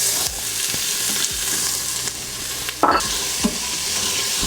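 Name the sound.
onions frying in olive oil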